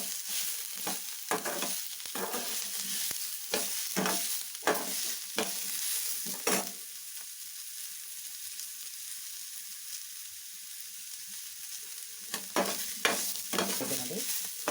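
Spices and chilli powder fry in oil for a sprouted horse gram sambar, a continuous sizzle broken by repeated scraping stirs that come in bursts, quieter in the middle stretch.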